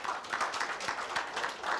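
A seminar audience at a UPSC workshop bursts into brief, dense clapping, a steady roomy patter of many hands with no voices over it.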